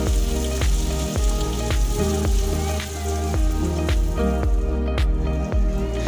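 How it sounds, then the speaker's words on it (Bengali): Catla fish oil and eggplant with spices being fried together in a pan, a loud close crackle of spattering pops and bubbling, steady and dense, without any speech. "এবারে সব কিছু উপকরণ মাছের তেল আর বেগুনের সাথে ভালো করে ফ্রাই করে নিচ্ছি।"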